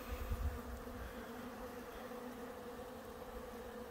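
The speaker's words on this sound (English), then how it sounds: "Honeybees at work." Steady, dense buzzing of many honey bees, a continuous drone that holds at an even level throughout with no voices.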